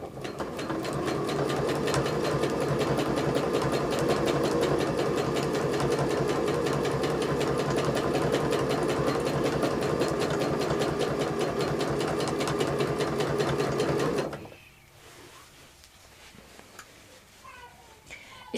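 Small domestic sewing machine stitching free-motion quilted feathers, a fast, steady, close mechanical hum and needle chatter for about fourteen seconds, then stopping abruptly and leaving quiet handling noises.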